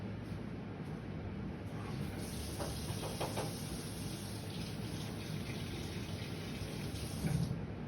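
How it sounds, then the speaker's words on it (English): Tap water runs in a steady, moderately close hiss over a dip pen being rinsed of dried ink, with a few soft clinks and knocks against the sink partway through. "I'm gonna go run the ink under the pen underwater a sec."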